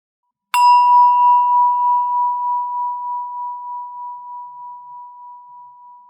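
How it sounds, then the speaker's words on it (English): A single meditation bell strikes once and rings on with a clear, pure tone, slowly fading with gentle pulsing over several seconds in otherwise silent surroundings. "Every time you hear the bell, notice where your attention is"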